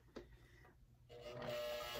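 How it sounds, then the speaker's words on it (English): A mechanical Rene HD 3000 sewing machine running a top stitch at a 4 stitch length, starting softly and then settling into a steady, close mechanical whir. "I'm sewing on my Rene HD 3000. It is all mechanical."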